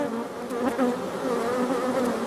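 Honey bees swarm and buzz around an opened hive, a dense, steady droning hum that stays close and loud throughout, with wingbeats rising and falling as individual bees pass near.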